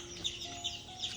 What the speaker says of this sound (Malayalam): കിളികളുടെ ശബ്ദം കൊണ്ട് നിങ്ങൾക്ക് ചിലപ്പോൾ ഇവർ പറയണതൊന്നും കേൾക്കുന്നുണ്ടാവില്ല